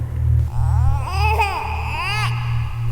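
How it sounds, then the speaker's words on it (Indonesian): A baby crying in a wavering, rising and falling wail, loud and close over a heavy low rumble. "Diawali dari tangisan suara bayi Nek Rumini yang lagi mencari kayu bakar"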